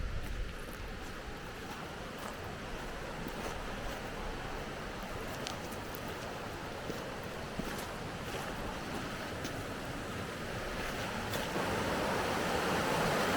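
Sheep Creek, a mountain stream near old stamp-mill mining sites, rushes in a continuous broad roar of water, steady and close, with faint wind buffeting and no voices.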